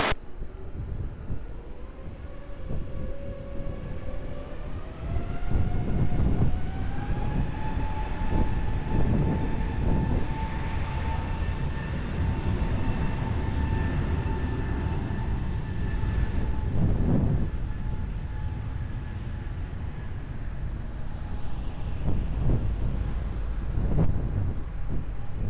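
A jet airliner powering up for takeoff from runway 20 at Lisbon Airport, its engine whine rising steadily in pitch over a broad roar, heard from a distance with wind buffeting the microphone.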